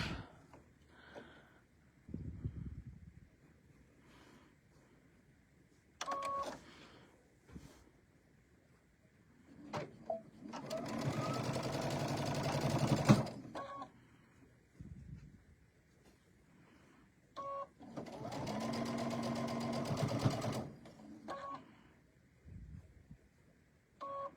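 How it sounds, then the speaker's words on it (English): A sewing machine stitches quilt rows together for a tabletop banner, running in two steady bursts of a few seconds each, separated by quieter handling noise, with no talk. "And we'll stitch the rows together."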